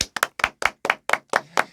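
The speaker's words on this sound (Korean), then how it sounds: "박수!" A short burst of hand clapping, roughly eight sharp, evenly spaced claps close by, like a small group or single person applauding a guest in a studio, without voices.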